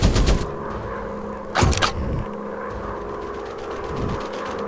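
Rapid machine-gun fire from a WW1 fighter plane in a combat flying game comes in two short loud bursts, one at the start and one a moment later, over a steady engine drone.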